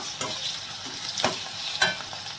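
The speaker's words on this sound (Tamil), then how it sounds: "இப்போ வெங்காயம் லேசாக வதங்கட்டும்" Onions and ginger paste frying in a pan, a soft continuous sizzle broken by a few sharp scraping stirs, close and fairly quiet.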